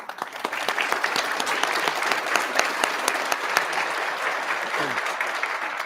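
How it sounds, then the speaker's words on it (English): Audience applause at a school board meeting, a steady wash of many hands clapping that holds loud and continuous, with scattered sharper claps standing out. "Yes, we can clap for them."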